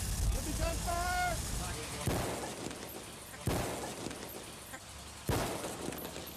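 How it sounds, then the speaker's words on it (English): Staged gunfire on a war film set, a mosque location: three sharp, loud bursts of shots spaced about two seconds apart, each decaying into a rattle, preceded by a rising tonal whine. "Give me gunfire."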